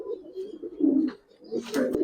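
Close, low cooing from a Pakistani pigeon, a few soft rolling coos in a row with a brief pause midway and a faint flutter near the end, no voices over it.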